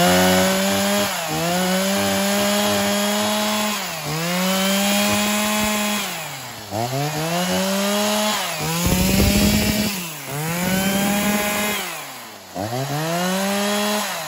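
A new Shindaiwa 1038s chainsaw with a 38.4cc engine, fitted with a 50 bar, runs loud and close, its engine revving up and dropping back repeatedly in rough, rasping surges, with no voices.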